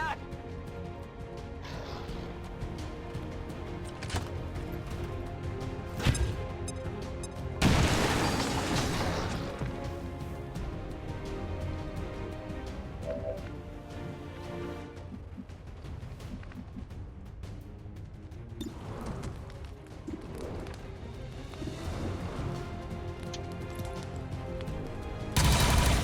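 Gunfire and a grenade blast from a battle in the video game XCOM 2: War of the Chosen, with bursts of shots, one sharp explosive hit partway through and someone talking over the combat.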